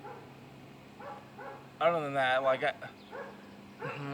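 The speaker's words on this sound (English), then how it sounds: "Sorry if you hear that dog barking in the background over there." A dog barks a few times in the distance, faint and intermittent beneath a person talking indoors.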